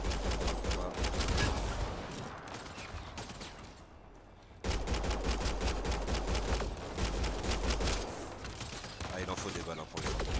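Sustained gunfire from the Mass Effect Andromeda video game, rapid bursts of shots fairly loud and continuous, with a brief lull in the middle before the firing resumes.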